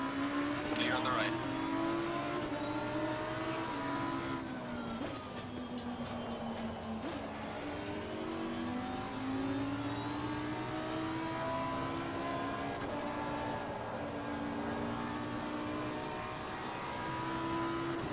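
Lamborghini Huracan GT3 Evo race car engine at Zandvoort in Assetto Corsa Competizione, a loud sustained high-revving whine that climbs and drops through gear changes, heard close for the whole stretch.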